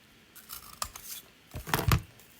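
Scissors cut a thin strip of patterned paper for card making: a few short, close snips and crisp slicing strokes in small clusters, with quiet pauses between cuts.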